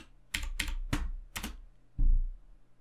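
Someone types on a computer keyboard with a short burst of about five crisp keystrokes close by, followed by a heavier thump like a key being struck hard.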